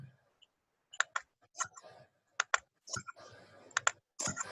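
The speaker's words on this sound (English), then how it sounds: "go ahead and click all those boxes on" Sharp computer mouse clicks land in small bursts while setup option checkboxes are ticked, close and fairly quiet, with faint speech murmuring between them.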